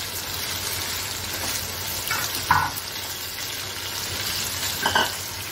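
Poppy seeds cook in a non-stick pan with a steady, low sizzle, broken by a couple of brief scraping stirs near the middle and end.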